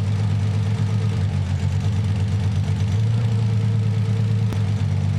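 Nissan 300ZX Z32 engine idling with cylinder one switched off during misfire diagnosis, a loud, steady low rumble with slightly uneven pulsing, close by and without voices.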